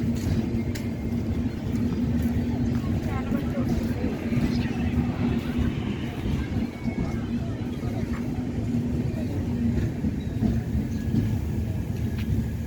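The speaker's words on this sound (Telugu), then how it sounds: "నెక్స్ట్ ఏదో ట్రైన్ వస్తుంది, శాతవాహన శాతవాహన్ అని అనుకుంటున్నా" The Satavahana Express rolls past at Ghatkesar with a continuous low rumble and a steady humming drone, heard from trackside amid surrounding noise and faint voices.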